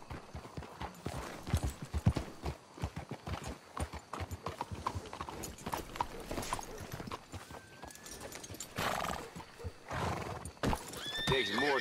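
Horses in the Red Dead Redemption 2 video game clop along at a steady walk, with a loud whinny near the end, while voices talk over the hooves.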